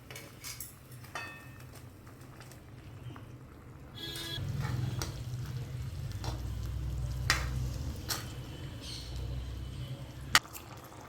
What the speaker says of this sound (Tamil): இந்த கொதிக்கிற குழம்புல இதை சேர்க்க போகிறோம்